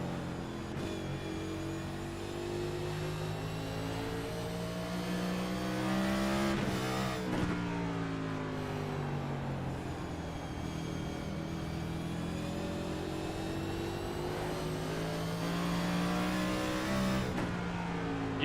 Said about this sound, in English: You can really hear them manage that throttle.